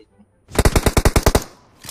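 Rapid burst of about nine evenly spaced gunshots in PUBG Mobile, loud and close, with no talk, trailing off before another shot begins.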